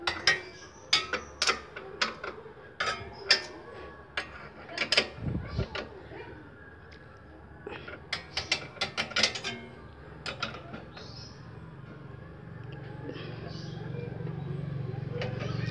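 Chain adjuster on a Yamaha Jupiter Z motorcycle tightened with a wrench: a series of sharp close ratcheting clicks and metallic clanks in irregular bursts, with someone talking between them and a quieter stretch at the end.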